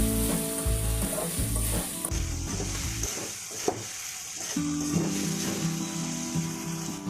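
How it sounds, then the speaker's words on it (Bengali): Vegetables and chicken for noodles hiss and sizzle steadily in a hot pan while being stirred, with soft scraping and shuffling throughout. "সবজিগুলো ভালো করে মিক্স করে নিব চিকেনগুলোর সাথে"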